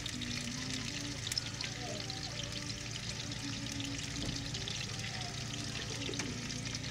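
Steady sizzling and crackling of breakfast food frying in a pan until golden brown, with a constant hiss and a low background hum.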